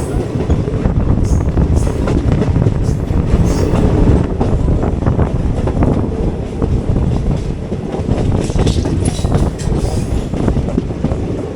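Inside a Chennai–Palakkad Superfast Express nearing Pollachi Junction in the Palakkad division, a loud, steady rumble of wheels and carriage fills the whole stretch, with rhythmic clickety-clack over rail joints and some wind buffeting.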